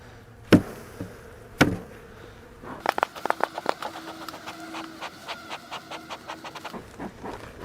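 Honeybees buzz around an open beehive during sugar feeding, a dense, close drone with rapid wingbeat pulses, after two sharp knocks or taps near the start.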